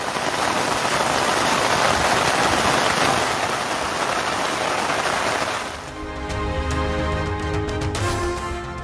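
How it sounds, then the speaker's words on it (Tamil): Light drizzle falling with thick cloud cover in the Kotagiri hills of the Nilgiris, a steady broadband hiss of rain that changes character partway through, turning thinner with scattered drops and a faint low hum. "சாரல் மழையுடன் அடர் மேகமூட்டம்"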